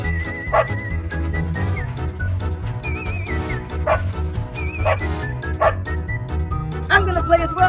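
A dog barks and yips in short bursts several times, heard amid steady music with whistling tones and background voices.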